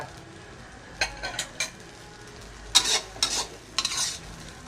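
Blanched squid is stir-fried in a pan over high heat, with short bursts of scraping spatula strokes and light sizzling in irregular clusters over a quiet background.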